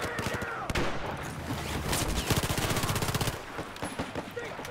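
Gunfire in the video game Battlefield 4: rapid automatic bursts close and loud, with repeated rattling volleys through most of the stretch, alongside people talking.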